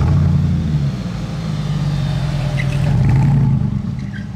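A car with a non-original aftermarket exhaust rumbles past close by, a loud, deep, steady engine drone that swells slightly and then fades, with no voices.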